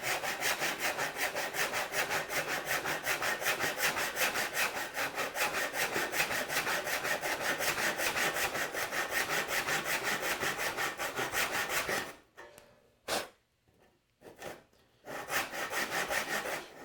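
A hand saw cuts kerfs for a sliding dovetail in wood, with quick, even back-and-forth rasping strokes going on steadily, close and clear, before breaking into a few separate scrapes.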